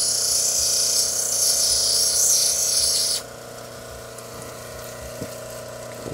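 Wet lapidary wheel grinding a piece of jade or opal with water, a steady bright whirring hiss that drops off abruptly about halfway, leaving a low motor hum running quietly.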